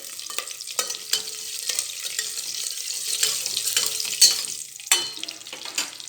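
Curry leaves and green chilli sautéing in a pan for coconut milk pulao make a moderate, crackling sizzle with bursts of stirring and scraping, close by and uneven in loudness, with no voice heard.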